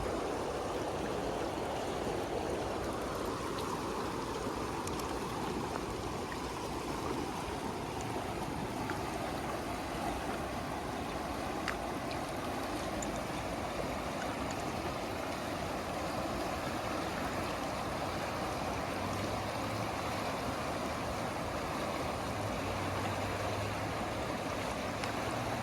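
River water flows steadily and evenly for the whole stretch, a continuous wash with no voices.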